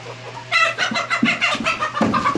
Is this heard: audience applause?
no